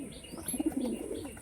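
Pigeons give a soft, low cooing in a short series of murmured notes, fairly quiet and close, with no talk.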